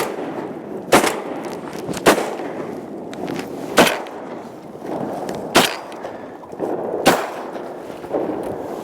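Shotguns fired at ducks during a duck hunt, six sharp, loud blasts spaced about a second apart against steady outdoor wind noise.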